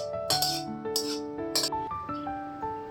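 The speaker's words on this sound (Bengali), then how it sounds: "এবার তরকারিটা একটা অন্য পাত্রে ঢেলে নিচ্ছি।" Cooked curry is poured from one pot into another, with a metal utensil striking the pot in several sharp, ringing clinks whose tones linger between hits, close and fairly loud.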